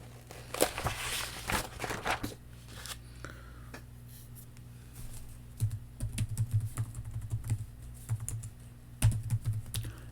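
Computer keyboard typing, probably a desktop set-up, with bursts of quick clicks near the start, then scattered keystrokes and short clusters of taps against a steady low hum, fairly close and moderately loud.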